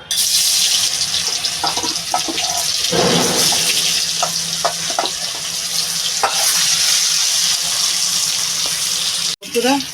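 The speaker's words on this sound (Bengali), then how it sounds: "তেলটা আমার গরম হয়ে গেছে কলা দিয়ে দেবো কিছুটা" Pieces of raw green banana fry in hot oil in a home kitchen, giving a steady, loud sizzle with occasional clinks and stirring noises. The sizzle cuts off briefly near the end.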